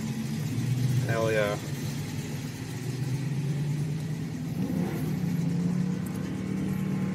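Infiniti Q45 rolling out at a drag strip, its engine a steady mid-pitched drone throughout with a rise in revs near the end, while someone speaks briefly over it.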